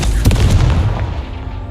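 Confringo explosive spell blast in Hogwarts Legacy, a short, heavy boom with a punchy initial hit followed by a rumbling tail that fades away quickly.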